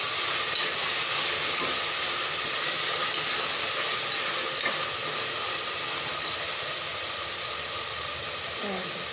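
Green coriander and mint frying in a pan for a chana and vegetable korma, a steady loud hiss and sizzle filling the whole stretch with a few faint stirring scrapes.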